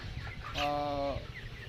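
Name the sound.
broiler chickens clucking on a poultry farm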